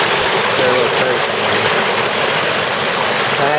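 Rushing creek water pours over a built dam of stacked blocks, a loud, steady broadband roar close by with no break across the clip.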